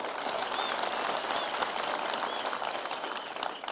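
Prison inmates at Nyeri Prison applauding themselves during a New Year speech, a dense, continuous round of clapping from a large group, steady and fairly loud, with a whistle rising over it.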